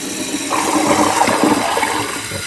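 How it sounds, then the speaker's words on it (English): A toilet with a newly replaced fill valve and flapper flushes loudly and close by, water rushing and gurgling for about two seconds before easing off. "So let's go ahead and flush that."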